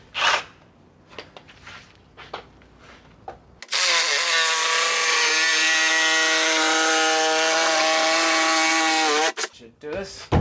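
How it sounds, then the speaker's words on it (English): A reciprocating saw bites through timber staircase sideboards, starting with a few knocks and scrapes, then running as a loud, close, steady buzz for about six seconds before stopping. "So I think I'll just trim them out with the recip."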